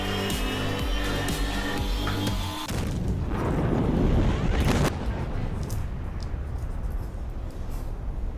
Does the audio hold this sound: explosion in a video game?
yes